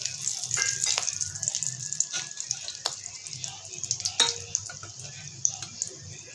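Cinnamon pieces, peppercorns, cloves and bay leaves fry in hot oil in a pan, giving a soft, steady sizzle broken by small clicks and stirring taps.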